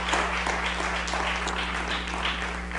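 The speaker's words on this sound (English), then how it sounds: "Let's give them a round of applause." Audience applause at a mayor's budget address in Rochester, New York, a steady wash of clapping over a constant low electrical hum, moderately loud throughout.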